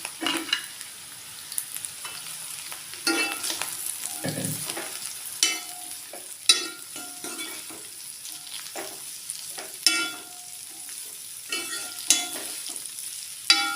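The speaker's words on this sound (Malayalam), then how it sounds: "പടവലം എണ്ണയിൽ നന്നായിട്ടൊന്ന് വഴറ്റി വരണം." Snake gourd pieces sautéing in hot oil with onions for a Kerala coconut stir-fry, a steady close sizzle broken by repeated scraping stirs and clinks of a spoon against the pan, no talking.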